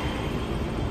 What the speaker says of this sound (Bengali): কোলাঘাটে যেখানে বাসটা দাঁড়ালো ঠিক তার পেছন দিকেই ট্রেন লাইন, আর সেখান দিয়ে যাচ্ছিল একটা ট্রেন